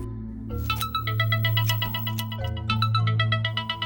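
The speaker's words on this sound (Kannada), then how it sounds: "ನಾನು ನಾಗರಾಜಿಗೆ ಫೋನ್ ಮಾಡ್ತೀನಿ." A phone ringtone plays on an outgoing call, a steady melodic tone pattern repeating with regular pulses, clear and close with no talking.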